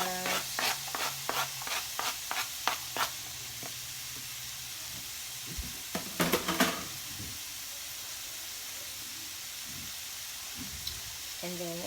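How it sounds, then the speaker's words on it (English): Onions and mushrooms frying in a pan for vegan empanadas, a constant soft sizzle with a quick series of stirring taps at the start and a clattering burst midway, a voice speaking briefly over it. "I'm gonna go ahead and add my veggies. The onions and the mushrooms."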